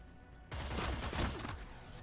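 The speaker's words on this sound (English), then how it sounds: "you are going to hear the gunfire" Gunfire in the video game Cyber Knights: Flashpoint: after half a second of near silence, a dense, loud burst of rapid shots and impacts rolls on steadily to the end.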